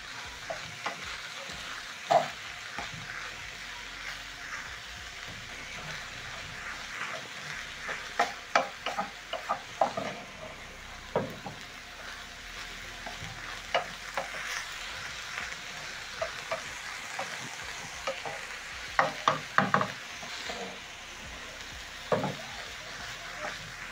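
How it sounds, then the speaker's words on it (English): Shredded cabbage and minced ground beef sizzle in a pan as a stir-fry, a constant hiss broken by frequent sharp scrapes and clicks from stirring, close and moderately quiet. "You can see the cabbage is wilting down as it cooks, and also it's absorbing the nice flavors from the minced meat and the spices"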